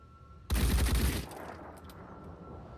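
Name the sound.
gunfire in Phoenix Point video game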